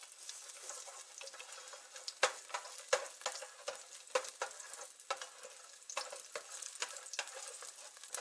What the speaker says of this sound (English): We have to fry the garlic